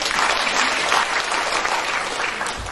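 Audience applause fills a seminar hall, a dense, steady wash of clapping hands close and loud for the whole stretch with no voices standing out.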